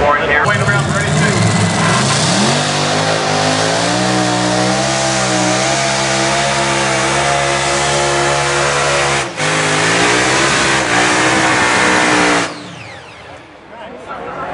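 A Light Unlimited Modified pulling tractor revs loud and close at an NTPA pull in Fort Recovery, Ohio, a sustained harsh multi-engine snarl with shifting pitch that cuts out abruptly near the end, with left-hand motor trouble.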